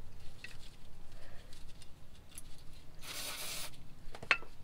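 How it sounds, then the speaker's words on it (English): Carb cleaner sprayed onto Toyota Tacoma drum brake parts gives a short hissing burst partway through, set against quiet shop background and light handling noises, with a brief sharp click near the end. "you can use a little bit of brake clean. This is carb cleaner,"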